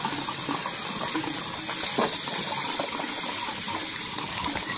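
Water runs continuously while a dog is bathed in a kennel, a steady splashing hiss with no one speaking.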